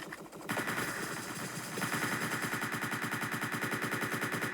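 Rapid automatic gunfire from the Entry Point video game, aimed at an armored Aegis unit, starts after a brief lull and then runs as a loud, steady stream of shots with an even, fast rhythm.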